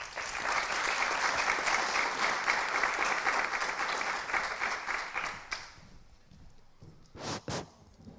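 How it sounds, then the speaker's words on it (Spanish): A real estate conference audience gives a strong round of applause, dense clapping for about five seconds before it thins out and fades, leaving a few scattered noises and a brief sound near the end. "los recibimos a todos con un fuerte aplauso"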